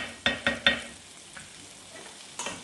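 Garlic sizzling and being stirred in a frying pan, three quick scraping stirs close together near the start, then a low steady sizzle with a few fainter clinks and one more stir at the end.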